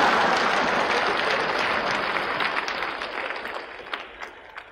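A live stand-up comedy audience in Hong Kong claps together, a dense burst of applause that starts full and slowly thins and fades over several seconds.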